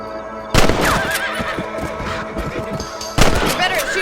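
Gunfire from hunting rabbits in the Red Dead Redemption video game, two sharp close shots a few seconds apart, each followed by a decaying echo, with a horse and in-game voices underneath.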